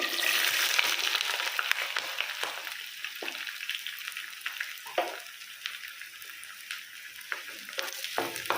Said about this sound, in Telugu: బాగా బ్రౌన్ కలర్ వచ్చే వరకు వేయించుకుందాం